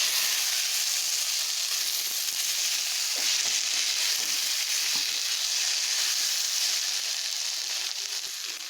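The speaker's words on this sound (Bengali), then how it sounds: "এই মশলাটিকে আমি এখন এখানে দিয়ে দেব। এবং এটাকে আমি একটু ভালোভাবে মিশিয়ে নেব।" A ground paste of cumin, ginger and chilli stirred into a hot pan, giving a steady, fairly loud sizzle with faint stirring scrapes throughout.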